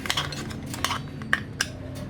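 Cream and a few drops of lemon being mixed in a bowl for a chocolate cake, quick clinks and taps of a utensil against the dish in an uneven rhythm, close and clear, no talk.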